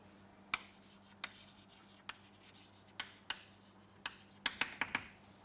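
Pen or pencil writing out a probability formula, heard as a series of short, sharp scratching strokes, sparse at first and then bunching into a quick cluster near the end, close and faint against a quiet hum.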